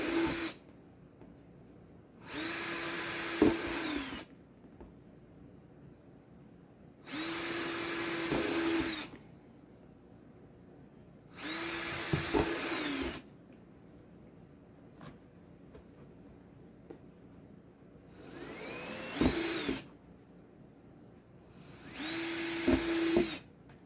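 A power drill bores holes through a plastic worm composting bin in five separate bursts of about two seconds each, the whining motor rising and cutting out between pauses of quiet, close and fairly loud.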